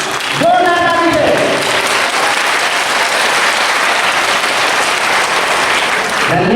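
Loud, steady applause from an audience at a Kursela celebration gathering in India, a dense crowd clapping that holds for several seconds, with a voice briefly heard at the start.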